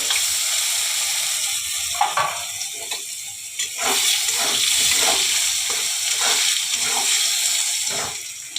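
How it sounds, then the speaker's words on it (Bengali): Diced potatoes hit a hot pan for a Bengali Mugeshwari muri ghonto and fry with a loud, steady sizzle, broken by occasional clinks and scrapes of stirring, with no voices. "এই যে আমি এবারে ডুমো ডুমো করে আলুটাকে দিয়ে দেবো।"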